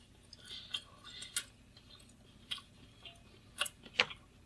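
Sourdough bread being chewed close up, with soft crunchy bites and a few sharp crackling clicks spread across a few seconds, fairly quiet with no talking.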